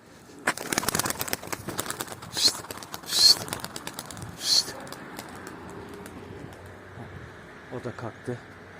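Flying pigeons (Turkish performing breeds) are heard outdoors with a few wing flaps and fluttering bursts, soft cooing and some buzzing insects, while someone talks over much of it.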